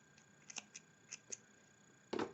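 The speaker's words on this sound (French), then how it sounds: "Et puis je vais couper le fil" Scissors snip through knitting yarn during work on a hand-knitted cardigan: several light, crisp snips spaced across the moment, then a louder, fuller cut close by, with no talking.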